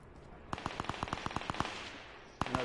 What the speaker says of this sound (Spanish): un disparo, una cierta detonación